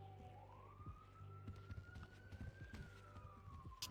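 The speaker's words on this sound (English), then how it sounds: "heard the siren." A police siren wails in the GTA NoPixel video game, a single rising tone sweeping slowly upward, moderately distant, over background game sounds and engine rumble.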